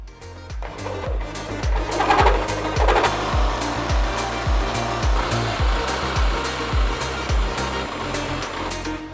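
A Sawzall reciprocating saw cuts into a Tesla car body, loud and close with a fast steady rhythmic chatter of blade strokes and a harsh grinding buzz running continuously.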